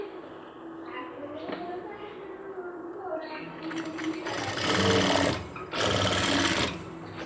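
Sewing machine stitching a cargo half pant, a quiet whirring run that builds into louder rapid needle chatter with a short pause, while a voice talks over the start.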